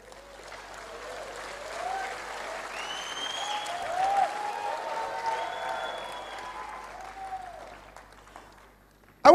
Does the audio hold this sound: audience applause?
yes